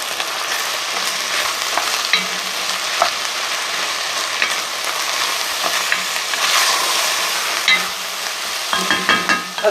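Chili con carne is stirred in a sizzling pan, with a steady frying hiss and irregular scraping and clinking of the spoon against the pan throughout, close and fairly loud.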